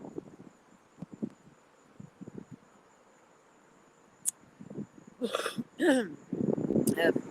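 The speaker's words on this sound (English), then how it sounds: "Clearing the frogs out of my throat." A few rough throat-clearing bursts near the end, loud and close, after quieter mouth noises and faint rustling.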